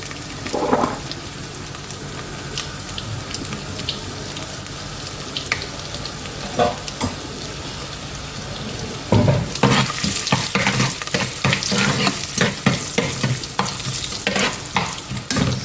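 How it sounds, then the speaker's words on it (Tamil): Cumin seeds and a piece of ginger fry in oil for jeera rice, a quiet crackle at first that bursts into a loud, dense sizzle with repeated stirring scrapes in the second half. "சீரகம் பொரியும் போதே இஞ்சி ஒரு துண்டு கட் பண்ணி வச்சுருக்கேன் அதையும் போட்டுக்கோங்க"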